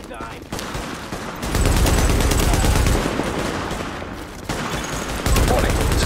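Sustained gunfire in The Division, bursts of automatic shots rolling on loud and close for several seconds, with brief lulls and an alert voice over it.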